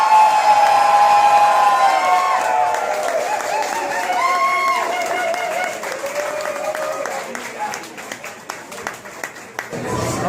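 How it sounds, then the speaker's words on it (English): A crowd at a leather community contest claps and cheers for contestants, loud applause with whoops that gradually thins toward the end, scattered sharp claps remaining. "Let's give these contestants a huge round of applause."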